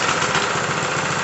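A Honda GX160 engine on a plate compactor runs steadily at a close, loud idle, a continuous mechanical drone with a slight vibrating throb and no voices.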